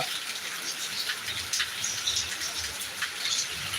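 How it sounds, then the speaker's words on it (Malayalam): Heavy rain pours in Attingal, Thiruvananthapuram, a dense continuous hiss of falling water with scattered drop sounds, steady and close with no voices. "തിരുവനന്തപുരം ആറ്റിങ്ങലാണ് ഈ പെരുമഴ പെയ്യുന്നത്"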